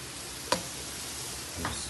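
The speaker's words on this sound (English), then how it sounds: "Saute it there." Butter for a steak sizzles steadily in a pan, with one sharp utensil tap and a softer scrape near the end.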